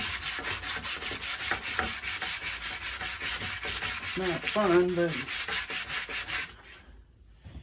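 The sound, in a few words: sanding a 1950s Slingerland snare drum wooden shell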